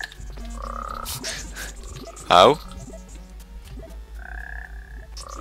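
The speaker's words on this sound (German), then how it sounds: "Oh, ein Frosch." A frog in the video game Guild Wars 2 gives a single loud, sharp croak, amid game music and effects, with a person speaking briefly.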